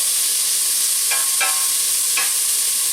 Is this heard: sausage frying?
yes